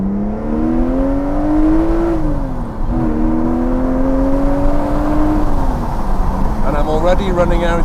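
Aston Martin Vanquish engine heard from the cabin with the window down while driving, a strong continuous drone that climbs and falls in pitch through the gears, loud and near, with talk over it at times.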